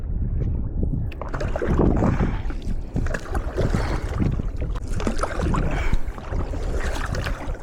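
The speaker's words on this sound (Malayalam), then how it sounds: "സ്പീഡ് ബോട്ട് വരുന്നുണ്ട് കേട്ടാ, ശബ്ദം കേൾക്കുന്നുണ്ട്" A loud, rumbling speedboat engine roars close by over rushing backwater and wind buffeting the microphone, steady throughout, near mangrove islands.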